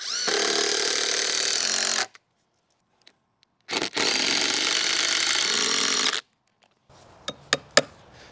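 A power drill drives a screw into a rim joist for a floating shed foundation, two loud sustained whirring bursts separated by silence, followed by a few faint clicks and taps.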